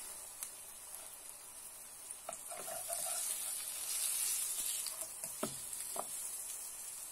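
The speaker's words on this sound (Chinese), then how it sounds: "是用那个中小火来煎的" Grated potato pancakes, three made from one large potato, fry in a pan over medium-low heat, giving a steady soft sizzle with scattered small pops and crackles throughout.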